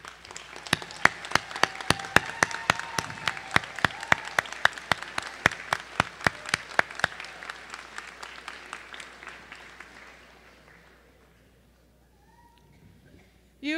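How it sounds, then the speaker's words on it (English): Audience at a College of Pharmacy hooding ceremony gives applause that starts with a few sharp claps, swells into steady clapping across the room, then gradually thins out and fades over about ten seconds. "salute those through a hearty applause for those folks that have made a difference in your lives here"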